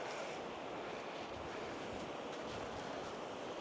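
Surf washes continuously onto a beach where the Daintree rainforest meets the sea at Cape Tribulation, Australia, a soft, even wash of breaking waves mixed with light wind, heard alone.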